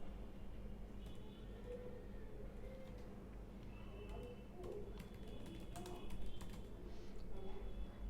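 Computer keyboard typing while HTML code is entered, soft rapid key clicks running throughout under a steady low hum, with faint bird-like cooing in the background.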